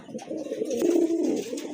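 A large Lahori pigeon, one of a pair offered for sale, gives a low, throaty, rolling coo close by, one drawn-out call with soft bubbling pulses.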